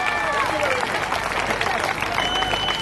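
A crowd claps at an award ceremony for a community association, dense applause running throughout with several voices and talk over it.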